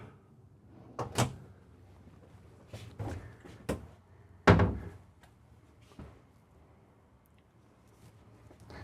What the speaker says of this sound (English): Soft closing drawers.